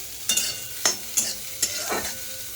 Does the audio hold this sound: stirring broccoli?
yes